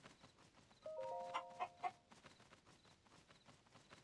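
A chicken in Zelda: Tears of the Kingdom gives a few short clucks in quick succession, fairly soft over quiet game ambience with faint rustling; no talk.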